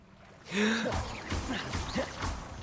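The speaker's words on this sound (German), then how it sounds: "Atmet er denn immer so schwer?" A swimming character in Hogwarts Legacy breathing heavily through water: a few close, audible gasping breaths and huffs in a short, quiet stretch.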